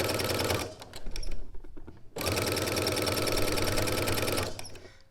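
A sewing machine with a walking foot stitching a seam, its fast steady mechanical chatter running close and loud, pausing briefly before starting again in a second long run.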